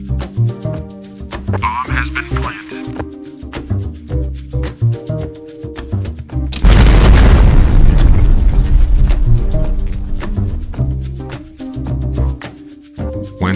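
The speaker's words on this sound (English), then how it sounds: "explode the wall just like I did" A wall blown up in the video game Terragon Inc. sets off a loud, sustained blast with a long rumbling roar, breaking in abruptly midway over a busy looping game soundtrack that carries on around it.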